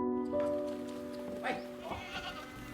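Goats bleating on a farm at the Huay Sai Royal Development Study Center, a faint bleat rising over steady tonal background hum and low murmur.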